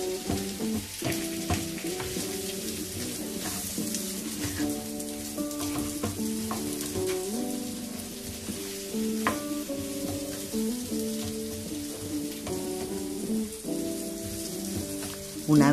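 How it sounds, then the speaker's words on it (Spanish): Salted zucchini sizzles steadily in a frying pan for pisto de calabacín y pimiento while a spoon stirs it, scraping and clicking against the pan in irregular strokes close by, with no talk. "Añadimos una poquita de sal para el calabacín y con una cuchara o una paleta lo incorporamos todo."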